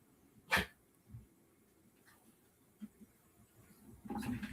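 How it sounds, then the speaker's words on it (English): Indoors, a dog lets out a sharp whimper early on, then softer sounds, and another burst near the end over a quiet room. "I might have to kick a dog out of here."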